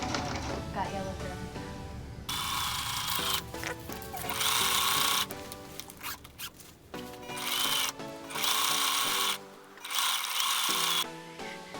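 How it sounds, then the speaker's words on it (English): A sewing machine top-stitching a yellow strip onto a flight suit for a vault suit costume, running in loud bursts of rapid needle chatter separated by short pauses, close up with no voices. "I'm just sewing the yellow strip onto the flight suit. I'm using a normal top stitch."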